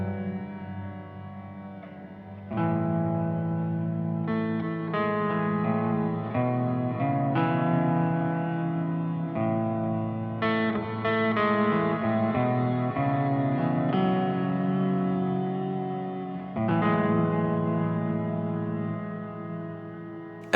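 Sustained electric guitar chords through an Eventide H90 with Black Hole reverb and pitch-shifting effects swell and bend, forming a wide, droning wash of sound.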